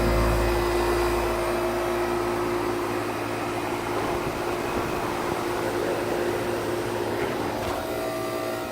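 An outdoor air conditioner condensing unit fitted with a low ambient kit runs nearby with a steady, loud fan whoosh and a constant low compressor hum, with no talking.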